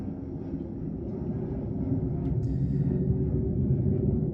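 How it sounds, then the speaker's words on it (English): Propeller or jet airplane passing overhead, a steady low broadband rumble that slowly grows louder across the span, heard alone with no talking. "Pardon the sound of the plane."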